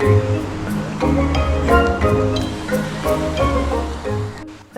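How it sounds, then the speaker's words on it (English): A waterfall in a village on the Ha Giang loop in Vietnam roars as a steady, loud rush of falling water, close by and continuous with no talking. "But the waterfall was beautiful"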